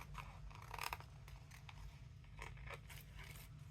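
Scissors trim the edge of a paper paint card in a series of faint, close, crisp snips, with a steady low background hum underneath.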